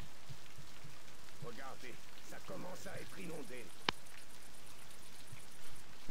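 Heavy rain pours down steadily in the video game Left 4 Dead 2, a dense hiss running throughout with voices talking over it and a brief sharp click partway through.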